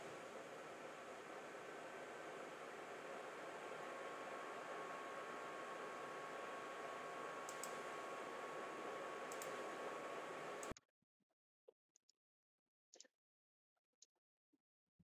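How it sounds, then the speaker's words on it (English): A room fan whirs steadily as a broad, even hiss for about eleven seconds, then cuts off, leaving near silence broken only by a few faint ticks and clicks. "I've got the fan whirring in the background while I speak"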